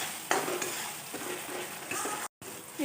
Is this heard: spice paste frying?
yes